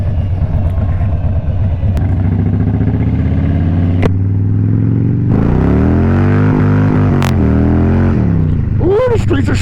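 Harley-Davidson Crossbones motorcycle ridden on a winter street, its engine a loud, steady low rumble that rises and falls through gear changes, close and continuous under wind and road noise.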